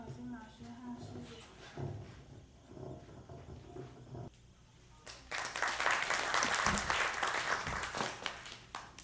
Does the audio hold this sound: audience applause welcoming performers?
yes